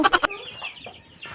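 Chickens on a farm cluck: three quick, close clucks open the moment, followed by softer, scattered bird calls in a quiet setting.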